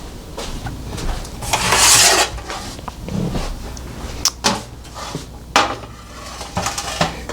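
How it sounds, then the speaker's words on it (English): Metal baking pan pulled out from among pots and pans in a kitchen, with loud clattering and clanking in bursts, then a few sharp knocks and thumps as cookware shifts and settles. "Let me get my pan."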